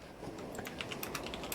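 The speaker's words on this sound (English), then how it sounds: "Do I need a quieter or louder keyboard for the typing, by the way?" Quick, steady clicking of keys on a computer keyboard as someone types, close and fairly even, with no speech over it.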